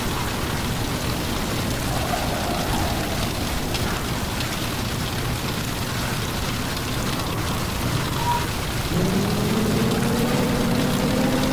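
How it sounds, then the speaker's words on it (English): Hail falling during a violent storm, a dense continuous hiss and patter of ice striking surfaces, growing slightly louder toward the end with a faint tonal hum under it. "And of course the hail starts back up."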